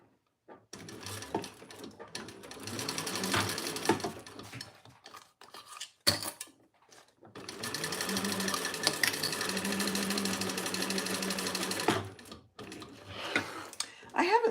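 A sewing machine stitches through cork in bursts of steady mechanical whirring, two long runs split by short pauses, with someone talking over and between them.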